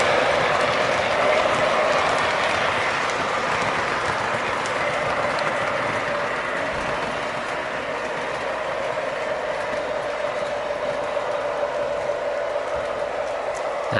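An MTH model train runs steadily around a layout, giving a continuous rattling, clicking rumble of wheels and gears at an even level throughout, with no talking.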